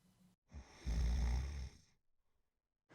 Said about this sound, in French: il ronfle.